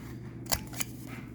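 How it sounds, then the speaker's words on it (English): Two crisp scissor snips cut through paper corners, quiet and close, separated by a short pause over a low steady hum. "And we're going to cut all the corners."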